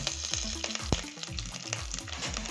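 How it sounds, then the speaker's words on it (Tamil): Steady hiss of ginger, garlic and curry leaves frying in a pan, with soft scraping and clinks of a utensil stirring throughout. "போட்டு நல்லா வதக்கி விடுங்க"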